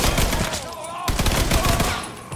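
Dense machine gun fire in Mafia III, continuous loud rattling shots close by in a chaotic shootout, with faint voices under the noise.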